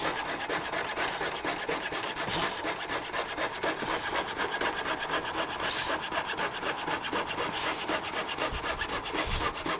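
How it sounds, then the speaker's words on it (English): A coping saw back-cuts a wooden door frame to fit laminate flooring, a quiet, even stream of rapid rasping strokes repeating steadily throughout with no talking. "I'm going to use a coping saw"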